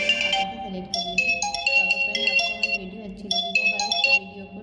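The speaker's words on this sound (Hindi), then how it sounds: "फ़ोन रिंगटोन पे सिलेक्ट करेंगे और आप यहाँ से रिंगटोन चेंज कर लेंगे।" An iQOO Neo 11 phone plays a ringtone: a bright, clear electronic melody of chiming notes in repeating phrases, loud and close, with no voice over it.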